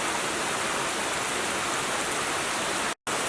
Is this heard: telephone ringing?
no